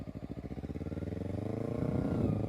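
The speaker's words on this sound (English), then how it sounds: "Revs up." Motorcycle engine revving on a training ride, a loud, close, throbbing putter that rises steadily in pitch and intensity as the throttle opens, with no talk over it.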